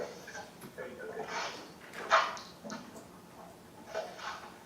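A dog barks a few times, some distance off, during a sheriff's office search of a home, with people talking around the short sharp yelps.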